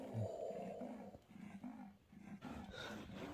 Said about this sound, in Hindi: गाइस लेपर्ड था जो हिरण के बच्चे को खा रहा था